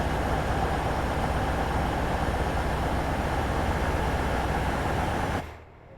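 Japanese A-Train electric traction motors drawing power in Train Sim World 6, a steady loud broadband hum and rumble holding for over five seconds before cutting off abruptly near the end.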